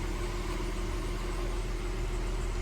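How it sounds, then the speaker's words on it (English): A 2003 Audi A6 engine idles smoothly and steadily in a garage, a constant close hum with no voices. "That's a great running motor"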